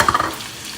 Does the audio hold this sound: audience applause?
no